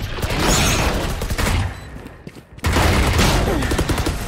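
Rapid bursts of gunfire in Valorant, a loud volley that pauses briefly and then resumes, sharp cracks close up with faint voices now and then.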